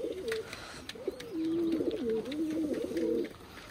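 Domestic pigeons coo in a close, steady series of soft throaty phrases, uninterrupted by voices.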